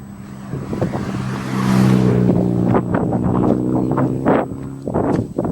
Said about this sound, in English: fucking cars interrupting me every second.